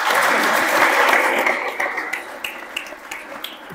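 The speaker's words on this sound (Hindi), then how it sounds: "जितना मैं कर सकता हूं मेरे लिए तालियां हो जाएं" A school session audience bursts into applause, a dense wash of clapping that starts strong and thins into scattered claps over a few seconds.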